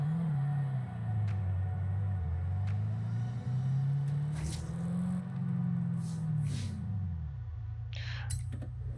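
A Toyota Supra Mark IV engine in Forza Horizon 5 on a test track, a steady low rumble with the pitch rising and falling as it revs, easing down near the end, heard alone.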